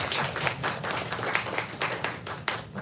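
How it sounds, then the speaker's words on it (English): A bookstore audience at Brookline Booksmith applauds after an author talk. The clapping is dense and continuous, with many hands filling the room, and no voices are heard. "So I guess another round of applause for you before we take it to the audience"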